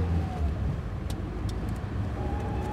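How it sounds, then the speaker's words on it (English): A car drives along a road in the video game The White Door, giving a steady low engine and tyre rumble with a few faint light clicks over it. "I was driving to work."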